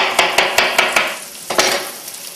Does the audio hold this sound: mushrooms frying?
yes